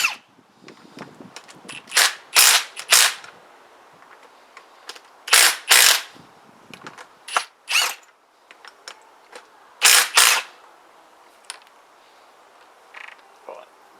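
Impact wrench fitted with a thin-wall impact socket removing bolts during a Huoniao HN125 top-end engine teardown, sounding in sharp rattling bursts of hammering, several short runs separated by pauses, close and loud against a quiet workshop.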